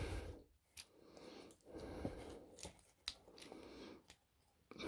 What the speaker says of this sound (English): we're just going to fold in these little panels